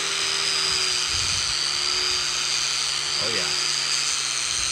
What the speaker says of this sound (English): if I found a use for this old grinder with no guard on it